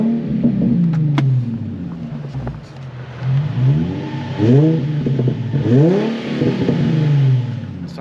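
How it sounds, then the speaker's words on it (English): A 2008 Nissan 350Z Nismo engine idles close by, then is blipped through several quick revs that climb and drop back, loud and alone with no talking. "Give it some revs."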